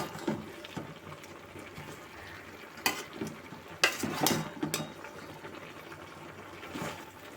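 Tomato pieces are stirred into a pan of bottle gourd curry, village style, giving scattered scraping strokes and soft wet sizzling at a moderate level with no talk.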